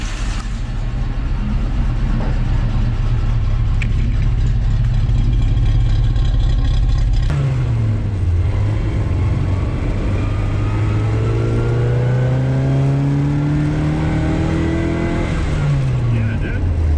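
A 1960 Austin Countryman's engine revs hard on a test drive, its pitch climbing and dropping through gear changes, loud and close, with people talking over it.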